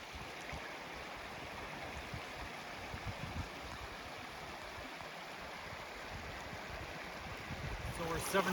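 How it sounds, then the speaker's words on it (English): A mountain creek flowing beside a hiking trail through meadow country, giving a steady, moderately loud wash of running water that holds evenly throughout. "There's a beautiful creek here, so we're gonna fill up now and get back on our way."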